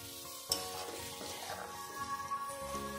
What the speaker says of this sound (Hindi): गैस की आंच धीमी रखेंगे और पनीर को भी मसाले में अच्छे से मिला देंगे।